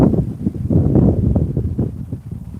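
Gusty wind buffeting the microphone on a riverbank during lure fishing, rough low rumbling that swells and fades in short pulses, no voices.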